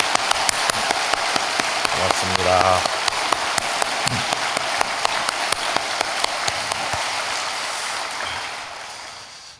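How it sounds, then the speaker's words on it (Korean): Church congregation applauding during a dawn service, a broad patter of clapping with a brief spoken word of thanks over it, fading toward the end. "우리 감사의 박수를 한번 하겠습니다."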